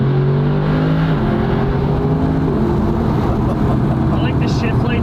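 A Mercedes-Benz SLS AMG Black Series engine drones deeply and revs, its pitch stepping up and down, while people talk over it.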